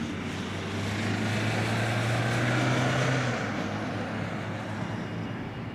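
Air Baltic airliner YL-ABF, about three years old, moving out for takeoff at Amsterdam Schiphol; a steady, fairly loud engine drone with a low tonal hum holds throughout, rising slightly in the middle and then settling.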